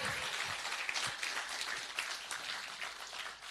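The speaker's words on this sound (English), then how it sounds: "you can clap." A small audience at a filmmaking challenge event claps quietly and steadily for a few seconds, the applause sounding faint and somewhat distant.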